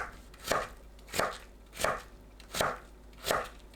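A knife julienning radish on a cutting board, five evenly spaced crisp chopping strokes, close and clear with no talk.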